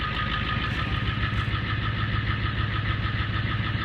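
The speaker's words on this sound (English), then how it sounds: "the engine runs pretty smooth" A 1987 Ford E350 cabriolet van's engine idles steadily in cold weather, a smooth, even mechanical rumble heard close and alone without any talk.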